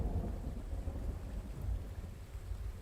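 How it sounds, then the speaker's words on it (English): Thunderstorm in the survival video game The Infected, a continuous low rolling rumble of thunder over a dense hiss of falling rain, steady and fairly quiet, with no voices. "that's rain bringing in"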